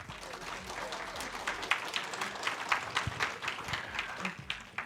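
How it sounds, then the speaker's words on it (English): An audience claps for a speaker, a sustained, fairly dense round of applause with individual claps standing out, heard at moderate distance with no speech over it. "Let's give Paul a round of applause."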